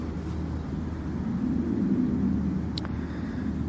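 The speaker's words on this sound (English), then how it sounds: "I can hear a jet in the background as well." A distant jet aircraft rumbles steadily in the background at a fishing spot outdoors, a low continuous drone under faint wind and ambient noise, with a brief light click near the end.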